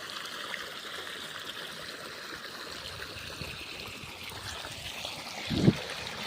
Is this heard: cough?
no